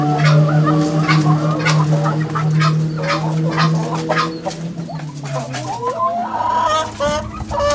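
Village chickens in Indonesia cluck and call up close, with one sustained bird note for the first few seconds, then scattered loud clucks and squawks continuing throughout.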